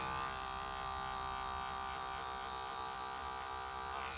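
Electric hair clipper buzzing through a men's layered haircut, a constant close motor drone with a slight change in tone toward the end, with no voices over it.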